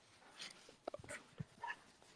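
Dogs at home whimper and whine in short, high bursts that are fairly close and moderately loud, with a few yips mixed in.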